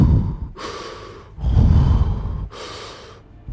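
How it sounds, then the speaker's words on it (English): Heavy, deliberate breaths performed as a storytelling effect, three long loud inhales and exhales in slow rhythm, close to the microphone, with no words. "now he hears breathing right above his head."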